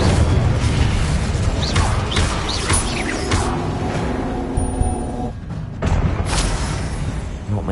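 A fire spell cast in Hogwarts Legacy on PS5 lands as a dense, roaring burst of flame and magic that fills the whole clip, loud and continuous, with brief crackling hits and a short dip near the end before surging back.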